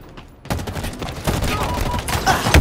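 Rapid bursts of gunfire in Halo Infinite multiplayer Quick Play, loud and continuous after a brief quiet start, layered with game sound effects.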